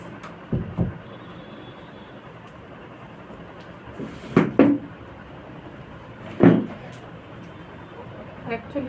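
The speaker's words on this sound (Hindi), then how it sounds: "एक मिनट, हम दरवाज़ा बंद कर देते हैं।" An indoor door is handled and shut, giving a few scattered knocks and a louder double thud in the middle, with a speaking voice around the bumps.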